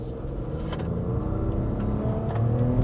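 A 2023 Nissan Rogue compact SUV accelerates at full throttle from a standstill, its engine droning steadily and rising slightly in pitch over a few seconds, heard from inside the cabin with a constant road rumble and no talking.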